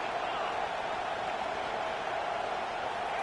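A football stadium crowd at a Bama game roars steadily as the defense lines up on third down, a dense, sustained wall of cheering with no breaks, loud and enveloping throughout.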